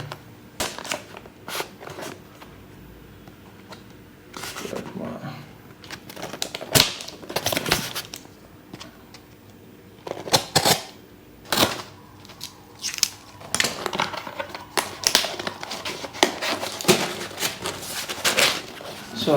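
The shipping package of a Samsung Galaxy S25 Ultra smartphone is opened up close: crisp clicks, crinkles and short tearing and rustling bursts come in uneven clusters, with quieter pauses between.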